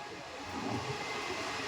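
A train rumbles through Ginigera railway station, a faint, steady low rolling drone with no distinct clatter, swelling slightly partway through and holding level to the end.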